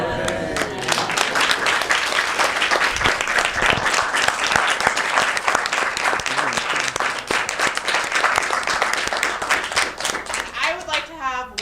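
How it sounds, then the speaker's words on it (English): A crowd at an academic symposium applauds steadily, a dense wash of clapping that holds at an even level before tapering off at the end. "I would like to have one more round of applause"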